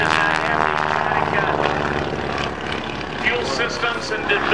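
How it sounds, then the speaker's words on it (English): A stock Stearman biplane flying aerobatics at an air show in LaCrosse, Wisconsin, its radial engine and propeller droning loudly and steadily throughout, with the engine note shifting as it maneuvers, under an announcer's amplified voice. "I want to remind you this airplane is a stock Stearman biplane."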